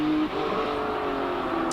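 Highly modified red Toyota MR2 Super GT race car with a 3.5-litre V6 turbo engine, recorded onboard at a hill climb; steady loud engine drone with a brief dip in pitch as it shifts, continuous throughout.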